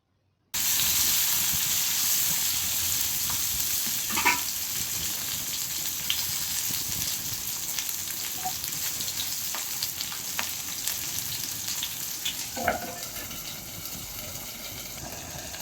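Flat beans (semi) fry in a home kitchen pan, giving a continuous, even sizzle and hiss that starts abruptly and holds steady, with a few faint clinks of stirring.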